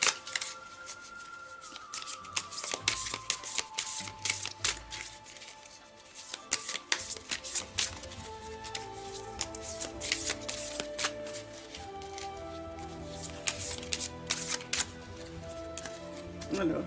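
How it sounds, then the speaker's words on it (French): Oracle cards are shuffled by hand in a long, continuous riffling flutter, close and fairly quiet, with brief soft speech in places. "ici, je tire une carte de l'oracle des reflets"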